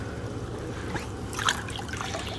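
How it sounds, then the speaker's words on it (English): Water from a backyard pool filter's outlet spewing into the pool, a steady close trickling and splashing wash that swells briefly midway and carries on without talk. "This is the exhaust right down here, or the outlet, where it spews into the pool."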